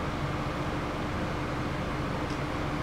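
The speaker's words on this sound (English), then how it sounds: "Sorry about the fan noise on." Constant broadband whooshing hum of a running fan, steady and unchanging throughout, with no voices.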